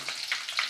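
Curry leaves dropped into hot oil with mustard seeds for a banana blossom thoran, a brief close sizzle with a few sharp pops and crackles, no speech.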